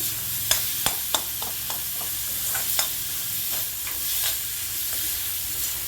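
Radish masala sautés in a pan with a steady broad sizzle, broken by sharp scraping clicks of a spatula stirring through it, several close together near the start and more spaced out afterward.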